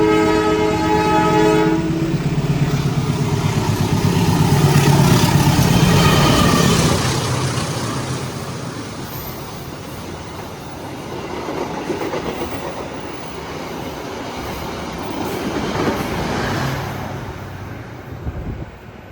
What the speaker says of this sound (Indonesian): kereta api Blora Jaya teman-teman, dari Cepu ke arah Semarang Poncol